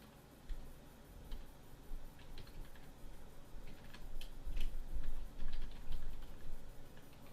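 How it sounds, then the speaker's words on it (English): Typing on a computer keyboard to enter an email address, a run of quick, uneven clicking keystrokes close to the microphone over a faint background hiss. "Now it's as simple as typing in an email address here."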